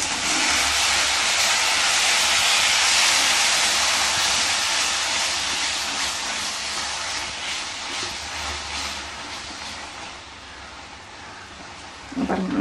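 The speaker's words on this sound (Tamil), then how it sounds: "அதை இதில் விட்டுருங்க, விட்டு நல்லா வதக்குங்க." Finely ground tomato paste sautés in hot oil in a pan, making a loud, dense, continuous hiss and spatter that eases slightly toward the end, with no speech.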